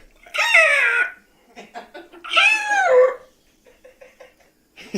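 A woman imitates a chicken's cluck and crow as a mock mating call, two long squawking bursts with short broken clucks between, close and loud, with no other sound.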